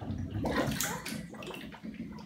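A person plunges into a bathtub filled with a thick slime of smashed fruit and eggs, a close splash followed by heavy sloshing and gurgling that settles over a couple of seconds.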